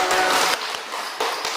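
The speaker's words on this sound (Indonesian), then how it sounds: "Boleh tepuk tangan paling meriah." An audience claps at an Indonesian talk show, a dense burst of applause that breaks off and picks up again in short waves, with no one talking.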